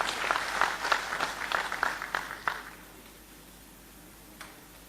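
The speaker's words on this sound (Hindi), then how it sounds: "जोरदार तालियां" Scattered audience applause at a formal government anniversary ceremony: separate sharp claps for about three seconds, thinning out and then stopping, with one last single clap afterward in a quiet hall.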